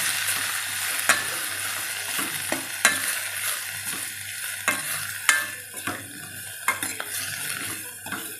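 Tomato and kasuri methi sautéing in a pan for mutton chops, a continuous sizzle broken by repeated sharp clinks of a metal spoon scraping and stirring against the pan, close and without speech.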